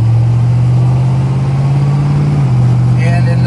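A 1966 Chevrolet Chevy II Nova with a Turbo 350 three-speed automatic pulls away, its engine a steady loud drone that holds, then drops in pitch as the transmission shifts, heard from inside the moving car.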